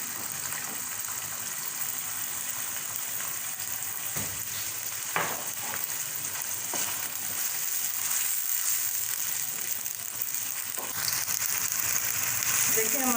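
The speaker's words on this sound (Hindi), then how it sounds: "इसको हमने फ्राई करना है।" Small chicken pieces frying in a pan for a chicken spaghetti dish, a continuous close sizzle with occasional stirring scrapes and knocks and a faint background voice.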